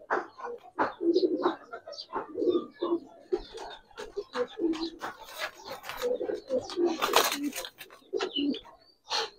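An old-breed Giribaz pigeon, a military silver bird with red feet, coos close by in repeated rhythmic bursts, and someone talks between and over the calls.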